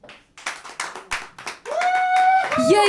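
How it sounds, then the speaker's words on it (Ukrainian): Thin, sparse clapping from a stand-up comedy audience comes as a few separate bursts, then gives way to a sustained tonal sound with a rising whistle-like tone near the end. "Які жахливі оплески!"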